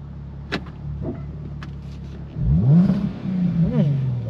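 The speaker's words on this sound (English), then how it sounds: "let's quickly pull up, give this engine a rev." The supercharged V6 in a Jaguar XE S (X760) with an 8-speed ZF automatic is revved while parked. It begins with idle and a few clicks, then rises in two quick, loud blips that fall back toward idle.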